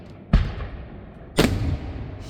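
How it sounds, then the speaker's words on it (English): Two deep booming firework blasts go off overhead at a nighttime parade of lights, about a second apart, each with a sharp onset and a rumbling tail, fairly loud and close, with no talking. "there are fireworks being shot off"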